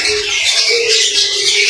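Rainbow budgerigar pair at a breeding farm, with steady high chattering and chirping from many birds filling the space, continuous and fairly loud with no speech over it.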